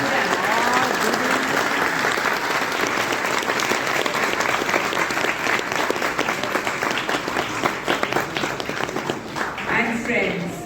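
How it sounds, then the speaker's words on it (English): Sustained, loud applause from an audience at a National Association for the Blind event held in a hotel hall in Worli, a dense wash of many clapping hands continuing throughout, easing slightly near the end. "Let's give a big round of applause to them."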